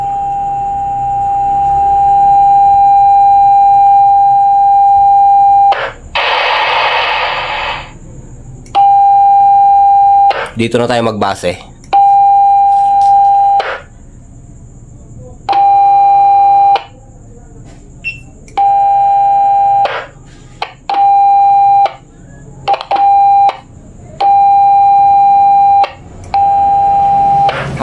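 Transmit tone from an ICOM IC-28H radio, a steady high beep sounding in repeated bursts of varying length, with someone speaking between them and occasional clicks and noise bursts.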